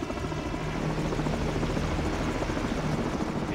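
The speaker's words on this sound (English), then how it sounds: "The helicopter's back." A helicopter in the video game Call of Duty: Modern Warfare gives off a loud, continuous rotor thump and engine drone, steady and close throughout the short stretch.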